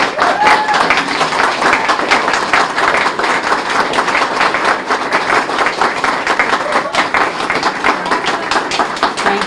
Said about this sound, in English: would all of the poets and artists in the room please stand up so we can give you a round of applause